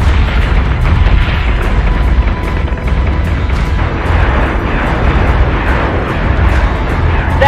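Ship weapons fire and explosions in the Battlestar Galactica Deadlock space combat game form a dense, continuous rumble of booms and bursts that stays loud throughout.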